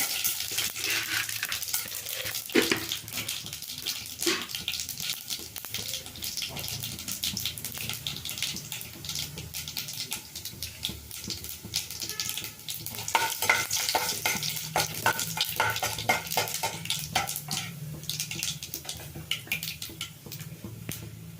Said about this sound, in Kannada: ಸಾಸಿವೆ ಹಾಕ್ಕೊಳ್ತೀನಿ. ಸ್ವಲ್ಪ ಕಡಲೆಬೇಳೆ,